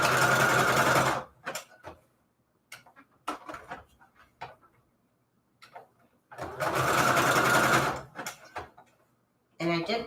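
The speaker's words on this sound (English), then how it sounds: "sew this tiny little piece of lace right here to this little tiny tag. I'm just using a zigzag stitch." A domestic sewing machine zigzag-stitches a tiny piece of lace onto a small manila tag, running in two loud sustained bursts separated by quieter clicks and handling noises, close up.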